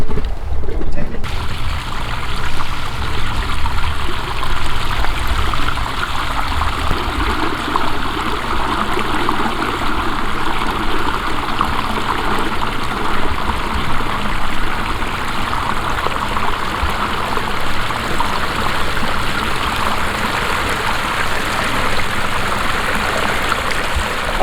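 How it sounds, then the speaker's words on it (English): A backyard pondless waterfall pours in a steady, loud, continuous rush of flowing water, close by and unbroken for the whole stretch. "show you this beautiful pondless waterfall"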